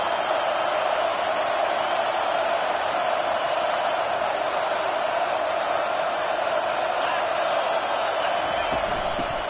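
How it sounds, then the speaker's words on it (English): A football stadium crowd roars loudly and continuously in support of its defense, a dense, sustained wall of cheering with no breaks. "It is getting loud as this crowd tries to help its defense."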